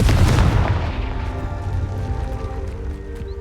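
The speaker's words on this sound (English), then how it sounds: "Confringo." In the video game Hogwarts Legacy, a Confringo spell explosion lands as a loud, deep boom that rumbles out and fades over a few seconds.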